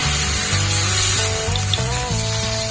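Water hits a hot pan of cooking raw mango pieces, raising a loud, steady hiss that fills the whole moment, with a faint tonal hum underneath.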